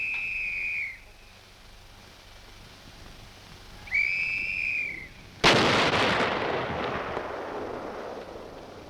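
At Aberdeen Proving Ground, two rising warning whistles sound a few seconds apart before a missile firing test erupts in a sudden loud roaring blast that trails off into a sustained rushing rumble.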